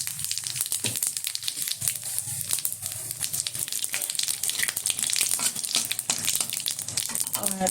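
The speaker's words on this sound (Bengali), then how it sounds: "এখন মাছ ভাজার তেলে দিয়ে দিচ্ছি 2টো তেজপাতা, 2টো শুকনো লঙ্কা, কিছুটা গোটা জিরে ফোড়ন।" Bay leaves, dried chillies and whole cumin seeds hit hot oil left from frying fish, giving a loud, dense, crackling sizzle that spits steadily throughout, close and continuous.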